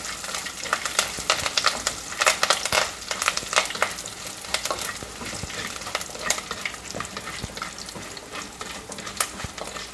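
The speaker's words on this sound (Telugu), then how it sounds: "ఇలా వేపుకుంటున్నాం కదండి." Fenugreek seeds, cumin, dried red chillies and curry leaves frying in oil in a clay pot, a steady dense sizzle with frequent scraping stirs of a spoon against the pot, close and continuous with no talk.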